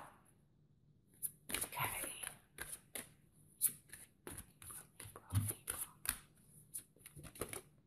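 Oracle cards being shuffled during a card reading: a quick run of crisp, papery riffles and flicks in uneven bursts, close and fairly soft, with brief pauses between handfuls.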